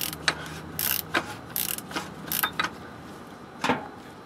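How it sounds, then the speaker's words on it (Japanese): Oil filter on a Toyota Passo (DBA-KGC30) being screwed on by hand during an oil and filter change, giving a series of short scraping, ratcheting clicks and rubs at irregular intervals, close and fairly quiet, with no talk. "ちゃんと奥まで入れて回していきますね。"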